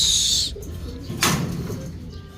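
A brief burst of wings flapping close by, a quick rustling flutter that fades into quiet room noise.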